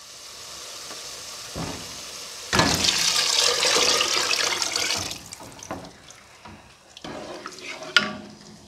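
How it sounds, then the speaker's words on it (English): Stock is poured into a pot while Nigerian-style braised rice is being made. The clip opens with quiet sizzling, then a loud, steady pouring rush lasts a few seconds, followed by scattered clinks and bubbling. "Then now I'm going to add the stock."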